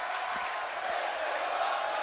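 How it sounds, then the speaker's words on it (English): A Canadian wrestling crowd at an independent show keeps up a steady roar of cheering and chanting, dense and sustained with no clear breaks. "earning a "This is awesome" chant from the very Canadian crowd."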